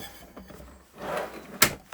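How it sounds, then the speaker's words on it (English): A front drawer in a 2017 Sterling Eccles 560 caravan slides open with a soft woody rumble and shuts with a single sharp knock, close by and fairly quiet. "I'm going to put it in the front drawer of the caravan, where we generally put them for travelling."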